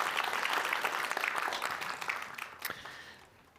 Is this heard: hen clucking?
no